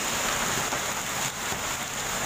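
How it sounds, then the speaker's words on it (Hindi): A downpour with heavy hail in Delhi makes a thick, unbroken hiss of falling rain and ice, loud and steady over a short span. "बारिश के साथ ओला,"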